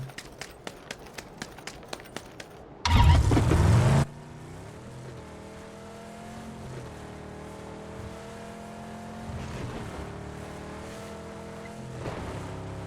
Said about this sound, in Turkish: Arabayı alıp gidelim.